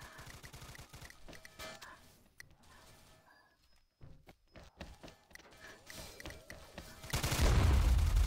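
Bursts of rapid video game gunfire crackle through a busy, noisy scene, with sharp shots scattered throughout and a loud, dense swell of firing near the end.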